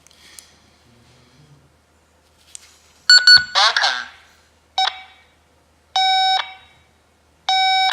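ProTEK GPS tracker receiver giving short, bright electronic beeps at spaced intervals, close and clear, with a brief voice-like burst between the first beeps over otherwise quiet background.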